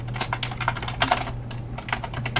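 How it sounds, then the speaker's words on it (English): Fast, uneven keystrokes clatter on a computer keyboard close by, in quick bursts with short pauses and a steady low hum underneath. "I'm just typing that down so I don't lose it again."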